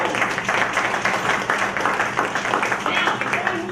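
An audience at a Pflugerville candidate meeting applauds the candidates with sustained, dense clapping that fills the room from start to finish, with some voices mixed in.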